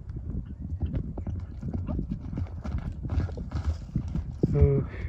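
A horse gallops alone in the open countryside at a demonstration of horses for buyers, its hooves pounding in a fast steady rhythm close by, with people talking over it and a brief whinny near the end.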